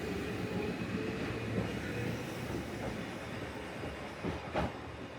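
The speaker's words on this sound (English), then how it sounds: "we filmed the train leaving" A train on the Wakayama line in Japan rumbles steadily away from a station at close range, a broad continuous roar with faint rail clatter and a couple of brief metallic squeals near the end.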